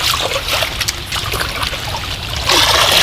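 Water trickling and splashing steadily as leafy lonthonga greens are washed in a village setting, a continuous close wash that grows louder and brighter toward the end.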